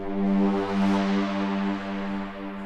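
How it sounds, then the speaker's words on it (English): A transition horn from a sample pack for a Drumcode-style techno track blares as a sustained, harmonically rich tone with a slight wavering swell, steady and alone for nearly three seconds. "this channel here is a horn, like a transition horn"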